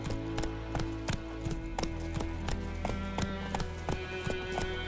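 Roach the horse's hooves in The Witcher video game, a steady clip-clop of hoofbeats at an even trotting rhythm, close and clear over a low constant rumble.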